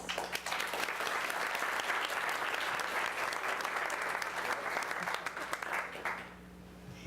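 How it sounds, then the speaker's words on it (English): Sustained applause from an audience at a Salem city council meeting, steady and dense for several seconds, fading out near the end. "A round of applause for Target, please."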